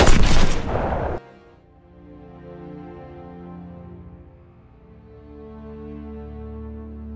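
A dense burst of war-film battle gunfire crackles loudly for about a second, then cuts off into a low, sustained orchestral drone.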